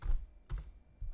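Computer keyboard typing during a Revit plumbing design session, a few soft clustered key taps in short bursts, close and fairly quiet, with no talking.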